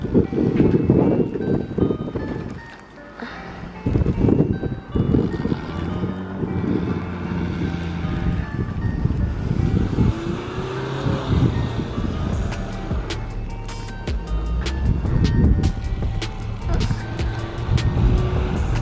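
A front-wheel-drive car attempting to drift in snow: engine revving and wheels spinning up and down in surges, mixed with wind buffeting on the microphone and occasional voices.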